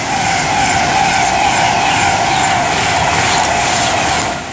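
A Pendolino train passing at speed on the West Coast Main Line at Lichfield Trent Valley, a loud close continuous rushing roar with a whining tone, steady for several seconds before easing off.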